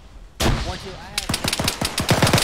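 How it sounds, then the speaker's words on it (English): Gunfire from the military video game ArmA 3 fills the clip: a loud shot, then dense rapid automatic bursts with sharp repeated cracks, while voices talk underneath. "There's still more fire coming from over there, it sounds like."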